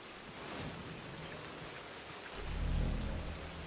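Rain falling at a camp in Red Dead Redemption 2 online, a steady dense hiss of downpour throughout, with a deeper rumble swelling near the end.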